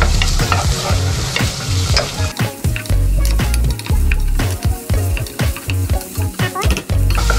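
Onions frying in a hot pan while being stirred and scraped with a utensil, giving a loud, steady sizzle broken by repeated close scraping strokes in an irregular rhythm.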